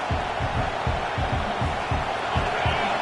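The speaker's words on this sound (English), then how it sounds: "This crowd, full throat, splitting the eardrums" A loud video game stadium crowd at a college football game in NCAA 26 roars continuously, with rhythmic low thumps pulsing underneath like stomping or chanting.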